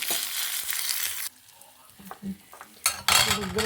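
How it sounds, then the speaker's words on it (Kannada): Cumin, chana dal and curry leaves sizzle in hot oil for tempering, a loud crackling hiss that cuts off abruptly, then faint stirring clinks before the frying noise bursts back near the end. "ಒಗ್ಗರಣೆ ಹಾಕ್ಕೊಂಡಿದ್ದೀನಿ"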